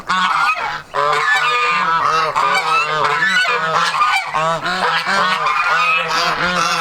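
Geese honk loudly and repeatedly in a garden, several birds calling over one another in a close, noisy chorus among baby ducks and geese.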